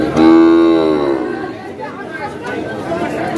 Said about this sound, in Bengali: আমবাড়িহাটের যে শাহিওয়াল জাতের বাছুর গরুগুলো রয়েছে সেই গরুগুলো।